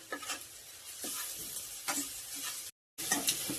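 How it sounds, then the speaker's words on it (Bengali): Mixed spices are stir-fried with fried onion and green chilli in a pan, giving a close, steady sizzle with repeated spatula scrapes, briefly cut off and then resuming. "এবার এই যে সব রকম মশলা আমি দিয়ে দিচ্ছি, দিয়ে একটু কষবো।"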